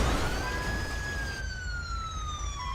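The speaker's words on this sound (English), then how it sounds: "Yeah, that ambulance." An ambulance siren in the LSPDFR mod for GTA V wails in a rising and falling tone, clear and fairly close over a low rumble of traffic, with no talking.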